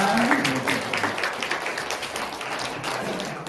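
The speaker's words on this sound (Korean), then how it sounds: "다시 한번 박수를 하나님께 영광 드립니다" Congregation applause during a Sunday service at a Methodist church, steady dense clapping filling the room throughout, with faint voices underneath.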